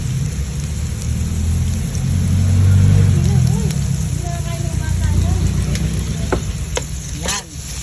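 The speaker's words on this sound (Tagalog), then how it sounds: "Dahil gusto ko, ginigisa ko ang paminta ko." Black pepper sautés in a frying pan for ginisang pechay, hissing and sizzling steadily up close, with a few brief clinks of stirring and a faint voice in the background.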